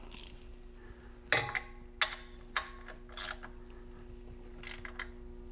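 A ratchet tightens the oil drain plug on a Ural motorcycle. A handful of sharp, close ratchet clicks come in separate bursts over a faint steady hum.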